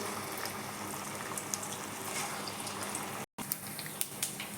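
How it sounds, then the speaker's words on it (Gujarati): Medu vada deep-frying in hot oil, a steady close bubbling hiss with small crackles, continuous throughout with one abrupt brief dropout. "મેંદુ વડા ફ્રાય કરવા માટે તેલ રેડી છે, તેલ ગરમ થઈ ગયું છે, તેની અંદર આપણે મેંદુ વડા નાખીશું"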